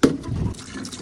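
Water poured into a container for pigeons, a brief splashing, gurgling fill heard up close for about a second with no talk.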